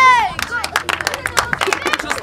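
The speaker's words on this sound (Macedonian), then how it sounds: "Уште два поздрави, два аплаузи." A meetup audience in Prilep bursts into applause: a quick run of hand claps and crowd noise follows a short shouted voice at the start, with chatter mixed throughout.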